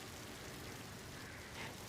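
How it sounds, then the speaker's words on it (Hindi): Steady rain falling during a prolonged downpour, a dense continuous hiss with no breaks, fairly faint and even, with no voices. "ये बारिश है कि रुकने का नाम ही नहीं लेती।"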